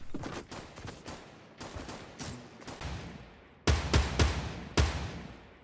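Gunfire in the Fortnite video game during a gunfight, sharp separate shots fired in quick clusters, followed by a few louder, nearer blasts toward the end, with no talking.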